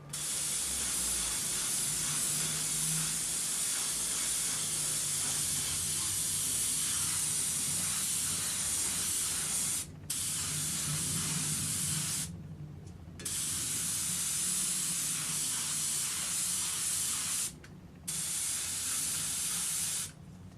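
A spray gun hisses steadily for long stretches spraying single-stage enamel paint, cutting off briefly a few times before starting again, close and loud.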